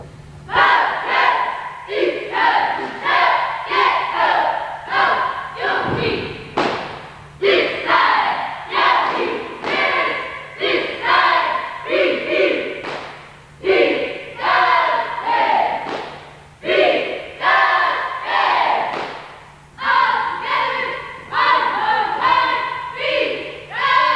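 A cheerleading squad at a 1994 NAC cheering competition shouts loud rhythmic chants in unison without music, the bursts coming in regular beats with brief pauses and a few sharp thuds between them.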